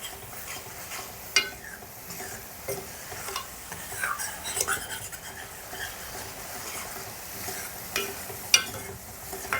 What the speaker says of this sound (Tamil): இந்த கோல்டன் ப்ரௌன் வர வரையும் வதக்கிக்கிடுவோம்